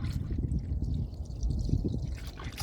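Minus 20 °F windshield washer fluid poured into a Jeep's coolant reservoir to dilute blue antifreeze, a close, steady liquid gurgle and splash lasting the whole moment, with no talking.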